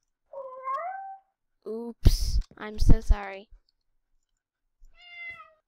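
A cat meows in a modded video game, harmonic mewing calls appearing at the start, in the middle and again near the end, with a person talking and apologising between them.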